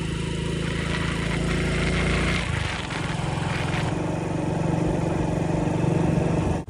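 A motorbike engine hums steadily and close by on a village road as people ride to market, its drone continuing through the whole stretch with no talking.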